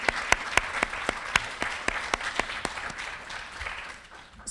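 An audience at a writers' and authors' honoree ceremony claps for the top 50 honorees. The applause is scattered, with sharp individual claps over a softer wash of clapping that fades near the end.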